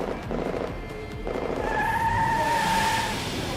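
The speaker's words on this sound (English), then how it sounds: "Amars hears the intense gunfire along the sudden roar of revving engines." Racing engines rev hard in a Girls' Frontline battle scene, with a rising high-pitched whine, tire squeal and skidding over a dense roaring background, loud and close, without speech.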